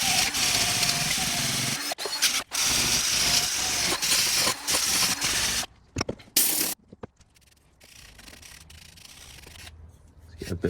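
Rust is sanded off the underbody of a 2004 Honda Civic Type R by hand in a garage, making rough, continuous rubbing and scraping that pauses briefly, then gets quieter and patchier toward the end.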